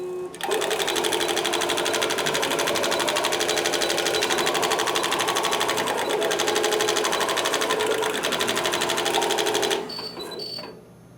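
Spangle Elite spangle machine running a two-color design at 3mm spangle size, a rapid mechanical stitching rattle like a sewing machine, loud and steady for about nine seconds before stopping with a few clicks.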